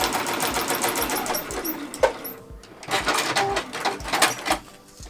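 A sewing machine stitches straight quilting lines across fabric for a heart-shaped zipper bag, a fast steady close rattle of the needle with a brief pause partway through.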